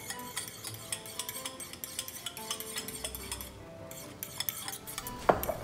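Eggs whisked in a bowl with a fork or whisk, a run of quick, close clicking taps against the side, ending in a few louder clinks of utensil on dish.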